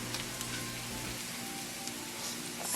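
Garlic butter shrimp sizzling in a pan, a steady broadband crackle and hiss like light rain, holding at an even moderate level throughout with no talking over it.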